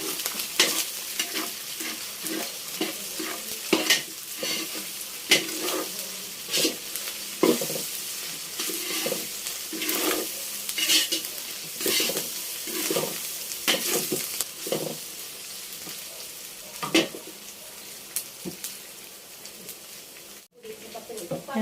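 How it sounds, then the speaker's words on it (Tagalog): Onion and garlic sauté in a pan for pancit, a continuous close sizzle broken by frequent scraping stir strokes against the pan. "ako magigisa na. Lagyan na po natin yung ating sibuyas at bawang"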